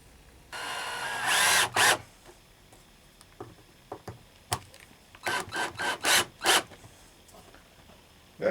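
Power driver running screws into a plastic magnetic gun mount in a shop: a longer whirring burst early on, then a series of short sharp driving bursts and clicks, close and loud, with quiet gaps between.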